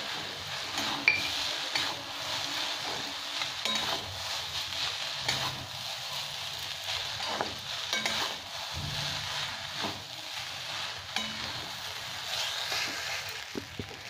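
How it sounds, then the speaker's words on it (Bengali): Chowmein masala sizzles steadily in a hot pan after a splash of water, with a bright hiss running throughout and occasional scrapes of stirring close up. "এবার সামান্য একটু জলের ছিটে মারব।"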